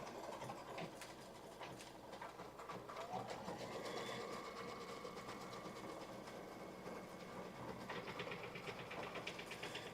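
A sewing machine hums with a steady rapid stitching rhythm as it tacks down all four sides of a 60-degree table runner, running continuously and fairly close with faint background voices.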